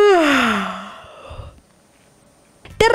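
A singer's yawn used as a vocal relaxation exercise: a loud voiced yawn sliding downward in pitch, trailing into quiet breath, then a brief vocal onset at the end.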